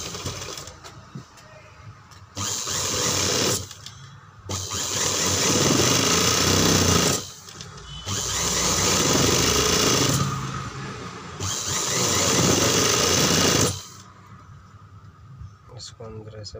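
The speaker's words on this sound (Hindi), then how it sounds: "अब लगाएंगे इसमें हम किनारे सिलाई।" A sewing machine stitching the edges of a suit back, running in four long close bursts of steady whirring separated by brief pauses. A voice talks between runs.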